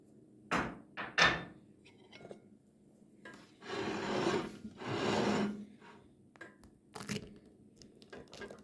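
Crisp crunching and rasping as flaky walnut mussel baklava made with butter and kadayif is cut or broken, with a few sharp cracks followed by two longer scraping crunches, close and fairly quiet.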